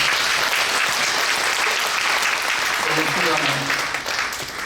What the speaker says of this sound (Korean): 여러분 큰 박수 한번 보내주십시오